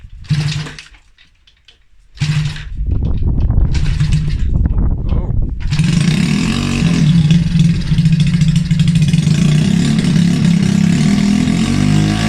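A small 90cc moped engine with a VM24 carburetor sputters and catches after a few false starts, then runs steadily with a buzzy, uneven idle, loud and close.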